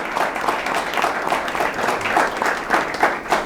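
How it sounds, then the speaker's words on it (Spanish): An audience at an artificial intelligence lecture gives a welcoming round of applause for a speaker, a steady, fairly loud stretch of clapping from a crowd that fills the whole moment. "Muy bienvenido, Álvaro, le damos un aplauso cariñoso de bienvenida."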